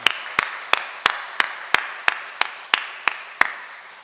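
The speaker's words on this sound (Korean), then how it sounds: "우리 따뜻한 박수로 환영하겠습니다" Hands clap in a steady, evenly spaced rhythm of about eleven sharp claps, ringing in a reverberant church hall as a Methodist congregation applauds to welcome a newly registered member. No voices are heard.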